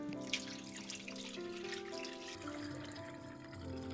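Water from a pot of boiled chestnuts is poured off into a kitchen sink, a steady close splash and trickle with small drips, continuous for a few seconds with no talking.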